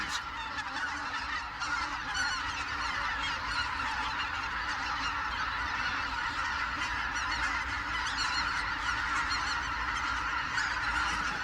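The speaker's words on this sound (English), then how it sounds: "White-fronted geese, swans and ducks seek out the few northern lakes that will not completely freeze over." A dense flock of white-fronted geese honks continuously, many overlapping calls blending into a steady clamor, with no speech.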